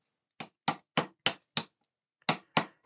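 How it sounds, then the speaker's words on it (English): Sharp hammer taps seat a part of an International Space Station model into place: five evenly spaced strikes, a short pause, then three more, close and crisp with no talking. "You will have to hammer that down a little bit to get that all the way seated in there."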